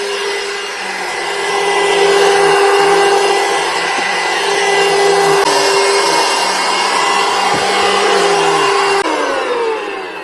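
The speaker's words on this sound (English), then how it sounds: "this is the best battery powered vacuum that I've ever tested" A VacLife rechargeable handheld vacuum cleaner with motorized brush runs steadily and fairly loud on a felt rug, its motor whine holding a constant pitch with a slight shift near the end.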